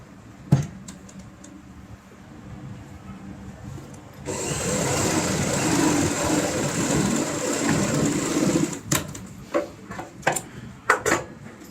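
A sewing machine stitches a zipper onto a homemade tote bag, running in a steady, close, continuous whir for about five seconds, with scattered clicks and handling knocks before and after.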